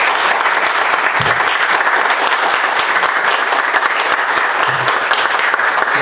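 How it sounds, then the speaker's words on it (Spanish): Loud, dense applause from an audience at an academic talk on gender bias in AI, welcoming the guest speaker. The clapping is continuous and even from start to finish, with no talking over it. "un fuerte aplauso para nuestro invitado"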